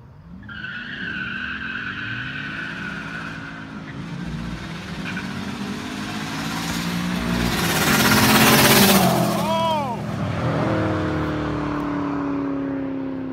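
Street-racing cars, a Subaru and a GTO, in Mexico: tires squeal in a long sustained skid while engines roar and accelerate, loud and close, with the screech rising and then settling into steady engine noise.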